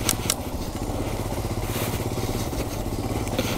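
A Royal Enfield Himalayan BS6 motorcycle rides over a rough road, its single-cylinder engine thumping steadily and close, with faint rattles and clatter from the bumpy surface.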